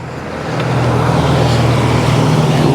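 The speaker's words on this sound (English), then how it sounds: "I'll let these cars go by." Cars drive past on a road near a bike rail trail on a Sunday morning, a loud close rush of tyres and engines that rises within the first half second and holds steady as the traffic goes by, with no talking.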